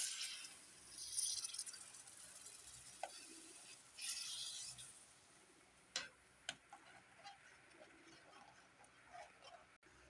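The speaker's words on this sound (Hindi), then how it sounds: "अब इसमें हम पानी ऐड कर देंगे।" Water poured into fried masala in a pan while making cabbage kofta gravy: soft splashing bursts of pouring, interspersed with a few faint clinks and drips, fairly quiet and without any talking.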